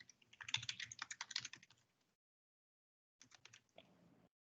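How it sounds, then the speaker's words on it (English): Fingers tap on a computer keyboard in a quick, irregular flurry of clicks, then pause, then type a shorter burst, all faint and close with no talking. "I am typing again"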